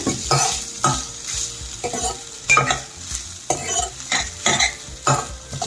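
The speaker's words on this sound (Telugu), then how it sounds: "ఇప్పుడు పైకి కిందకి ఒకసారి కలుపుకోవాలి" A spoon stirs and turns rice through a hot tempering in a pan, before coconut rice is finished with cow's ghee; repeated scraping strokes in a steady rhythm over a continuous close sizzle, with no voices.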